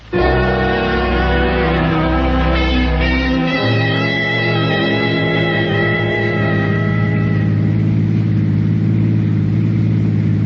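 A car effect for a radio mystery drama: a loud, close engine rumbles low, then shifts to a steady mid-pitched drone with harmonic whine as it drives along, no voices.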